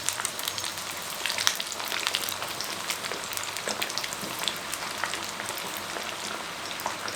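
Chicken drumsticks frying in hot oil give off a steady, dense crackling sizzle with fine spitting pops, close and even for the whole stretch, with no voices.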